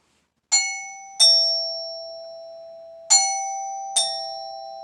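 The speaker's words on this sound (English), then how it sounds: "Now I have a special way of ringing Lambkin's doorbell." Doorbell chiming four times in an uneven pattern, each bright ding ringing out and slowly decaying, alone in a quiet room.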